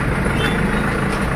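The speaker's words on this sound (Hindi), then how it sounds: "और अब गाड़ी हमारी ट्रैफिक में आ चुकी है" A loaded truck carrying about 2500 kg on the road to Khandwa moves through road traffic, a loud steady rumble of engine and road noise, close and continuous, with no talk.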